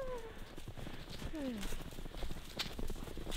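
A horse runs over creaking snow on a farm outing, hooves thudding in a steady clip-clop with loud breathy panting, close to the microphone; a voice talks over it.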